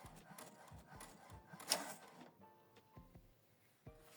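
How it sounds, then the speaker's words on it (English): An HP Deskjet 2910 inkjet printer printing a document, giving quiet rhythmic mechanical clicks and soft thumps with a brief louder whir of the paper feed, close by in a quiet room. "It's printing out document."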